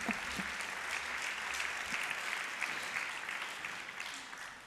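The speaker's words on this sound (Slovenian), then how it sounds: "Lahko zaploskate na poti na oder." Steady audience applause fills an award ceremony hall, a sustained wash of many hands clapping that slowly fades toward the end, heard without speech.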